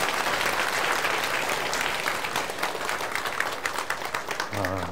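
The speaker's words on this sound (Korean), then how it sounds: "큰 박수로 환영해 주세요" Audience applause at a church spring festival event, as a pastor is welcomed to the stage for a talk; steady dense clapping fills the whole stretch, fading slightly near the end.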